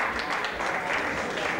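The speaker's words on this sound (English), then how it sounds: "round of applause for Ms. Jasmine Bonet" Audience at a gay pageant applauds a contestant with a thick, continuous burst of many hands clapping, filling the whole moment at an even level.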